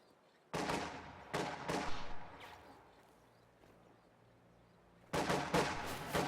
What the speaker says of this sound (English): Fuel cache going up right there.